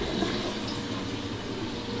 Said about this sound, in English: when you turn on the water, the flame just explodes